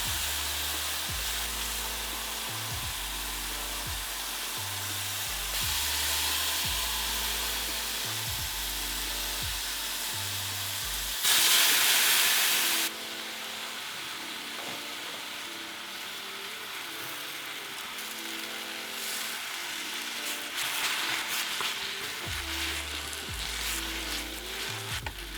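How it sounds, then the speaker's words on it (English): Mushrooms sauté in avocado oil in a pan, a steady soft sizzle running throughout with a louder hissing burst near the middle, under a rhythmic backing music bed. "So into the pan, I'm adding some avocado oil, and then I'm gonna saute my mushrooms in here"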